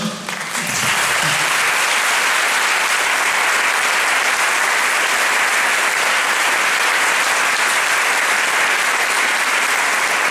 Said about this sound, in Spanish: Et votre présence et vos applaudissements me touchent.